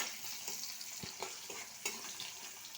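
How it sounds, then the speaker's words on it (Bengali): Onions frying in a pan for a fish curry, a quiet steady crackling sizzle with light clicks and taps of stirring scattered through, no one talking. "এবার ফোড়নে দিয়ে দেব অল্প পরিমাণ পেঁয়াজ। পেঁয়াজটা লাল লাল করে ভেজে নেব।"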